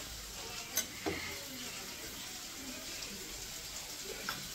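Potato and pointed gourd curry cooking in a home kitchen, a soft steady sizzle with a few light clinks of stirring, quiet throughout.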